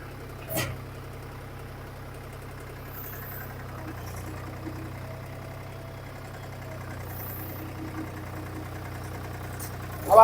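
A tractor loader's engine idles in low gear with a low, even rumble throughout, a brief clunk near the start and a sharper knock at the very end.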